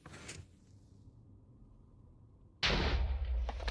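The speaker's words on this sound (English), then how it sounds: "the explosion happened down there, which is where it's supposed to happen" A TNT blast in the video game Minecraft, with a faint lead-in fizz followed by a sudden loud, broad explosion that rumbles on to the end, alone with no talking.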